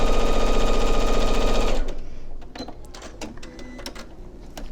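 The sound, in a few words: sewing machine stitching quilt pieces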